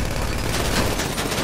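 Video game gunfire roars as a loud, continuous, dense stream of rapid automatic shots, steady and close throughout with no speech audible.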